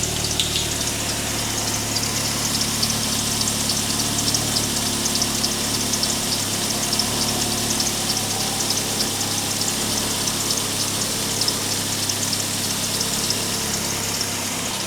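A 2007 Ford Focus engine idles steadily after a leaking power steering reservoir was replaced, a continuous even hum with a faint pump-like whine, close by and alone with no talking.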